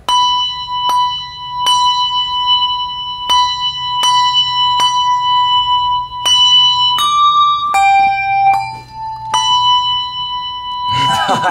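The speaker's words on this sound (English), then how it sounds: "then damp the bell on your shoulder for the sound to stop" Handbells ring out a simple tune, one clear struck note after another at a steady pace, each tone ringing on before the next, ending in a brief rustle.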